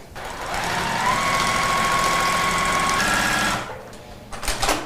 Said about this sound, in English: So Laurel, this is your very first time machine quilting